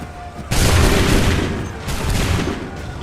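A loud musket volley in Assassin's Creed III erupts as a dense, crackling burst of many muskets firing together, then rolls into a second rumbling wave of shots.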